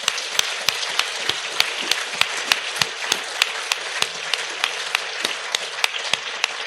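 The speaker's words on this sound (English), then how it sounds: "I mean, yeah, round of applause." Conference audience applauding speakers at PAC 2020, a continuous bed of clapping with one sharp nearby clapper striking in an even, regular beat throughout.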